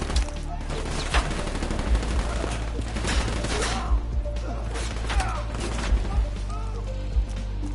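Gunfire in Call of Duty: Black Ops 3: repeated sharp shots and bursts at roughly regular intervals over a steady low rumble, with voices shouting in between.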